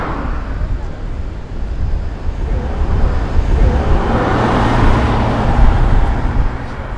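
Vehicles pass along a coastal road in Kenting National Park, Taiwan, making a steady, close roadway rumble that swells as one goes by, mixed with wind buffeting the microphone.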